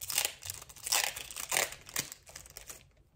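Foil Pokémon card pack wrapper, a Japanese booster, being cut open with scissors, giving crisp repeated crinkling and snipping bursts close up for about three seconds before trailing off to quiet.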